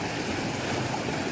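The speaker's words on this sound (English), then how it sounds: "And then there's a stream that runs parallel to the path." A stream running alongside a trail leading up to a waterfall, a steady broadband rush of flowing water that stays close and constant throughout, with no voices over it.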